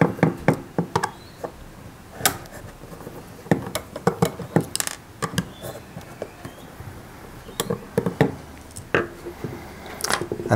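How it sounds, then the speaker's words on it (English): Small screws being undone on a disassembled dial caliper, a run of quiet, sharp metallic clicks and taps at irregular intervals, close up with nothing else over them. "it's a matter of undoing these screws"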